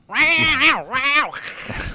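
Several agitated cats meow and caterwaul in close, drawn-out, wavering cries, upset at wearing hats, loud and near with one yowl after another and no talk over them.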